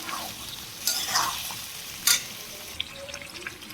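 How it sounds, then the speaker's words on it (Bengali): Potato and egg curry stir-fried in a little oil in a wok, with a steady sizzle and scraping spatula strokes and a couple of sharper clanks, close up and with no voices. "এখন এটা আমি কষাবো"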